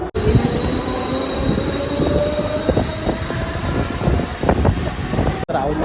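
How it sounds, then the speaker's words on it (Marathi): A train runs into a station at Pune, with loud continuous rumble, rhythmic wheel clatter and a high wheel squeal tone throughout. Background voices are heard. "अजून किती वेळ लागतो काय माहिती ट्रेन यायला"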